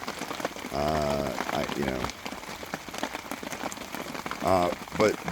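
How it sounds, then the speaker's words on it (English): Steady patter of rain in Southern California runs throughout, with a person talking over it in the foreground. "Thank God that it is raining"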